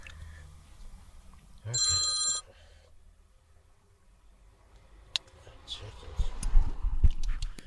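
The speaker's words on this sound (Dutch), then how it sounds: "Heb ik hem toch weer niet uitgezet." A mobile phone rings indoors during a conversation, a single short electronic ring burst near the start, followed by quiet shuffling and handling noises as it is silenced, then faint movement.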